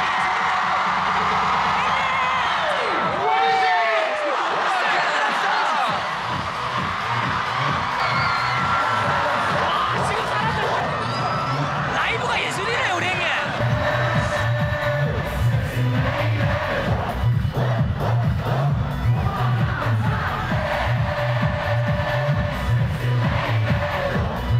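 A large outdoor crowd cheering and shouting at a street performance at the Eiffel Tower in Paris. The roar is sustained and fairly loud, with whoops and rhythmic clapping or chanting building toward the end.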